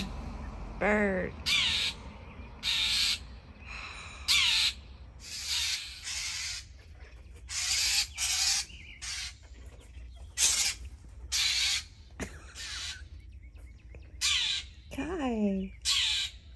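Loud crow-like bird calls outdoors, close and persistent, sounding as repeated harsh caws in uneven bursts over a continuous noisy background, with a few brief sliding chirps among them.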